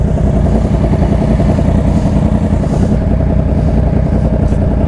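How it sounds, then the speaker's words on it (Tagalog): Motorcycle engine running steadily and loud throughout, a continuous close mid-pitched drone with a clattery texture, ridden on a rain-wet road. "Bago motor, walang load."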